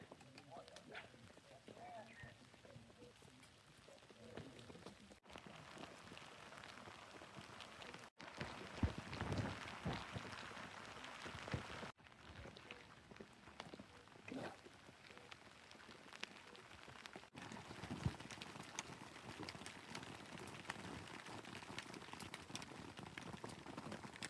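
Rain falling outdoors during a spring zig-rig fishing session, a soft continuous patter of drops on a surface, faint and steady, with someone talking over much of it.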